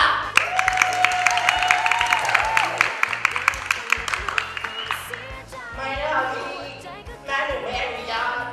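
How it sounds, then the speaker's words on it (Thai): An audience breaks into applause to welcome the host onto a stage, with dense clapping and cheering sustained under a voice speaking over it. "ขอเสียงปรบมือต้อนรับ"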